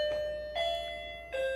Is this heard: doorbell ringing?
yes